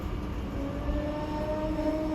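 A SEPTA Silverliner commuter train running from Philadelphia toward Doylestown gives a steady interior rumble with a low drone and faint whining tones, continuous and enveloping from a seat near the front, with no voices.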